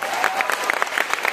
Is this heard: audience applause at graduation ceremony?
yes